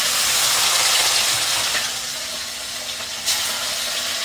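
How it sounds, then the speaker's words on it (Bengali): Katla fish hits hot oil in a wok, giving a loud sizzling hiss that eases after a couple of seconds, with a sharp spatter burst near the end. "এই যে কড়াই তেল গরম হয়ে গেছে, এইবার এর মধ্যে আমি দেব হচ্ছে এই যে মাছগুলো, জানি এক্ষুনি চটপট করে ছিটবে"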